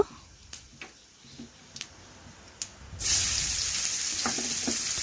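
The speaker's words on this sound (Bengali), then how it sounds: "পেঁয়াজটা ভালোভাবে নাড়াচাড়া করে তেলের সাথে মিশিয়ে একটু লাল লাল ভেজে নিচ্ছি" Chopped onion dropped into hot oil with cumin and five-spice, a few soft clinks and stirs before a sudden strong sizzle erupts and holds steadily, close and clear with no talk.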